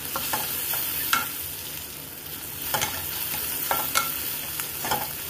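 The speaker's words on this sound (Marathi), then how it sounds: "कांदा मस्त तेलामध्ये परतून घ्यायचा।" Onion fries in oil in a pan while being stirred, giving a steady close sizzle broken by periodic scraping clinks of the spoon, with no talking.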